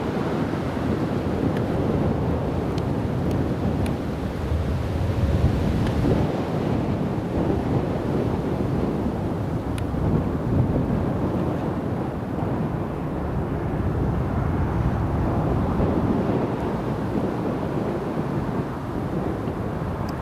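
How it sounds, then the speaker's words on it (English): Wind gusts roar steadily at Newcastle International Airport, a broad continuous rumble buffeting the microphone for the full stretch, swelling slightly mid-way, with no voices over it. "see that wind just catching up"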